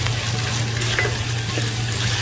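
Chicken sautéing in a hot pan for sauteed ampalaya with curry, giving a continuous loud sizzle and crackle with stirring scrapes throughout.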